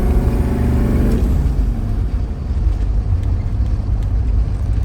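A 1984 GMC Suburban K2500 with a Detroit diesel engine rising in pitch as it revs under boost, then settling into a loud, steady, rough rumble heard from inside the cab.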